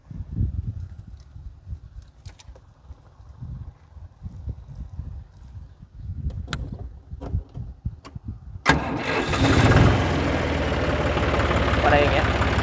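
A John Deere 5310 tractor engine turns over and catches, then settles into a loud, steady running roar after some quieter background movement and clatter.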